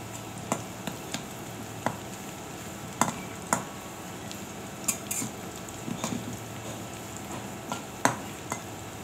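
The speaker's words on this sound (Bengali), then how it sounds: "জিরে দিয়ে দিলাম, জিরে ফোড়ন।" Cumin seeds crackle and sizzle in hot oil for tempering, a soft continuous fry broken by scattered sharp clinks and taps of a utensil against the pan, close and fairly quiet.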